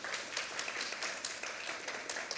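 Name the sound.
audience applause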